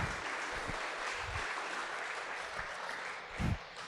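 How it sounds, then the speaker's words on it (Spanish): Applause from a church congregation honoring the women present at a Spanish-language service, a steady wash of clapping throughout with a louder burst near the end. "les quiero dar un aplauso a ustedes, mujeres"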